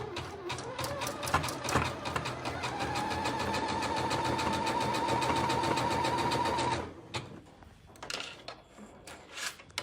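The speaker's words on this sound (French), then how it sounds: "Donc vous vous mettez en point zigzag sur la machine à coudre." A sewing machine set to zigzag stitch runs steadily on elastane fabric for about seven seconds with a constant whirring hum, then stops, leaving a few faint handling clicks.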